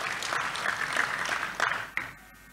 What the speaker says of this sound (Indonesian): Tepuk tangan dulu buat Tuhan kita Yesus.